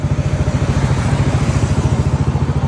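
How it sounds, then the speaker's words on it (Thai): A Yamaha Aerox 155 scooter engine runs close by, loud and steady with an even, rapid pulsing throb throughout, and no one speaks. "เดี๋ยวผมสตาร์ทเครื่องยนต์ให้ฟัง อ่า สตาร์ทที่เดียวติดนะครับ"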